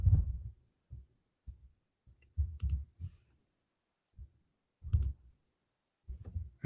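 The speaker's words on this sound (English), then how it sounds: "Let me type it for you." Computer keyboard keys tapped in short separate clusters, close and fairly quiet, with silent pauses between the bursts of clicks.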